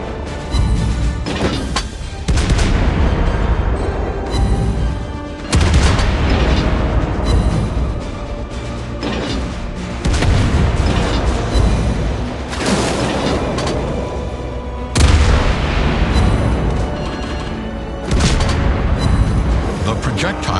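Naval gunfire from the World of Warships Blitz game, with a Tier 9 Halford destroyer: heavy booming salvos and explosions recur through a dense, continuous battle soundscape, loud and close, with game voice lines mixed in.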